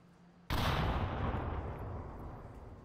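In the Onward VR shooter game, a sudden loud blast of grenade and gunfire hits abruptly and rumbles on, decaying slowly over a couple of seconds.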